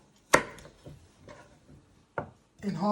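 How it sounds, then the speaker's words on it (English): A few sharp knife chops on a cutting board, two louder hits and some softer knocks, close by with quiet gaps between. "you're just chopping them into 2 pieces"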